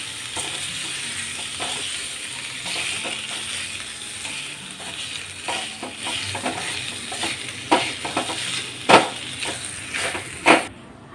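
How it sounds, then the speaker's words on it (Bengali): Boiled potato halves are smashed in a pan with ginger and chili, giving a low sizzle under repeated thuds and scraping knocks of a spatula that grow louder and sharper toward the end. "আলুগুলো একটু স্ম্যাশ করে নিচ্ছি।"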